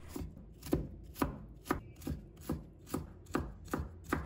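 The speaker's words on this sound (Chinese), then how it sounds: "再改刀切成细丝， 然后切成小粒。" A knife chops food finely into small pieces on a board, about ten sharp, even strokes at a steady rhythm, close and clear with no voices.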